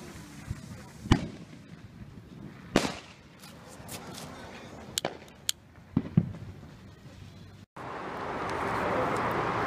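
Fireworks bursting outdoors during a backyard display, several sharp bangs and crackling pops spaced out over a steady background hiss, with a louder rushing noise near the end.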